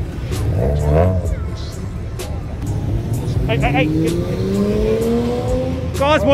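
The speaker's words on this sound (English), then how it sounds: "Cars, boy!" Cars rev and accelerate past at the Hout Bay Blanket Breakfast Run in Cape Town, engine notes rising and swelling steadily over several seconds amid busy outdoor crowd noise, with voices talking and calling out nearby.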